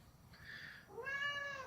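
A cat meows twice in close succession, a short higher call followed by a longer, louder harmonic meow, heard alone and fairly close.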